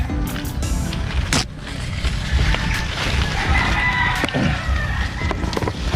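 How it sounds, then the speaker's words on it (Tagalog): On a small farm, three remaining chickens cluck near a former chicken coop by a corn plot, and a rooster crows partway through over close rustling and bumps. "ipapasyal ko kayo sa aking tatlong manok na lang naiwan dito"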